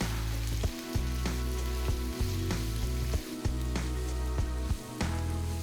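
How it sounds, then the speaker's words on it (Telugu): Thinly sliced medium onions fry in hot oil in a kadai, giving a steady, loud sizzle with dense crackle throughout and brief dips where they are stirred. "నూనె వేడైన తర్వాత ఇందులో సన్నగా తరిగిన 3 మీడియం సైజ్ ఉల్లిపాయలు వేసి ఉల్లిపాయలు రంగు మారేంత వరకు కలుపుతూ"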